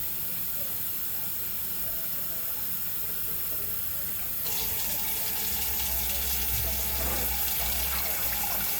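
Water runs from a tap and pours into a pot for vegan red beans, a steady hiss and splash that grows fuller and louder partway through, heard close with no talking.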